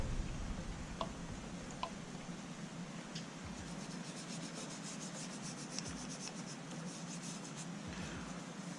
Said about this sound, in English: Just take a brush, clean out the channel on the inside, clean out some of the little ridges.